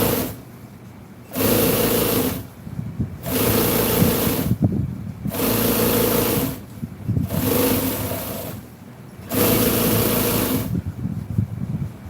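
A sewing machine stitches a seat cover for a 1966 Chevy truck, running in four steady mechanical bursts of a second or two each, separated by short quiet pauses, close and fairly loud.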